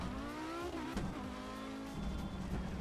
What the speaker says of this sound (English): whizzing by and hearing the unmistakable sound of the 5-cylinder